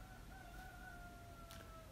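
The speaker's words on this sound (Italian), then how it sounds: "Questo è un gallo molto simpatico." A rooster crows in a long, drawn-out call with steady tonal lines, moderately close over a soft background hum, no voices.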